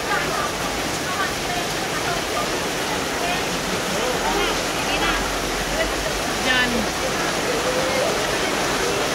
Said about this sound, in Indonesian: lagi banyak tamu, hujannya lebat banget